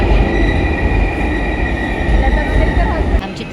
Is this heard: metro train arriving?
yes